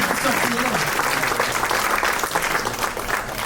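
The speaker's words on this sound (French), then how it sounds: "Un tonnerre d'applaudissements pour San." A room of people at a meetup breaks into dense, sustained applause, loud and close, with a voice briefly audible under the clapping throughout.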